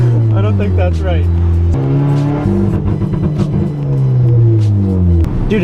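A stock Honda Civic engine bounces off its launch control rev limiter, a loud buzzing drone that stutters and jumps in pitch in repeated steps, close up with people talking over it.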